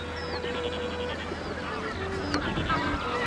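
Geese honk and call in the distance on the Orkney islands over a steady outdoor background, with several overlapping calls and no voices.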